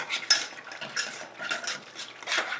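Egg yolks being stirred into a pot of chocolate peanut butter pie filling, with a utensil repeatedly clinking and scraping against the pot in an irregular rhythm, close up and with no talking.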